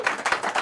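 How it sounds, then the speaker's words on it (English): Audience applause for a guest speaker introduced at an evening talk on Chicago demolition history, a short burst of dense clapping from a crowd, fairly close and steady with no voices. "I thrive on applause."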